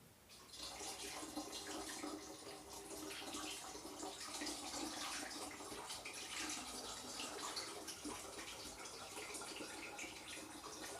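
Apple juice pours steadily into a home brew to top it up, a continuous splashing, trickling stream that runs close and unbroken for about ten seconds with no talking.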